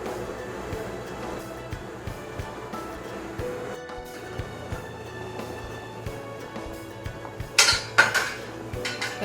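A lid goes onto a pot of fish soup in a home kitchen, giving a few sharp metallic clinks near the end over soft background clatter.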